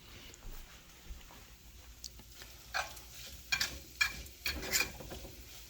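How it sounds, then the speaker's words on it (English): Oily spaghetti sautés in a hot pan with a fork, giving a quiet low sizzle broken by several short scraping and clinking stirs that cluster toward the end, with no talking. "So just sauteing it a little bit."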